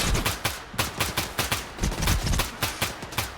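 Rapid bursts of gunfire in the video game S.T.A.L.K.E.R. 2, sharp repeated shots in an uneven rhythm, loud and close, with no voices.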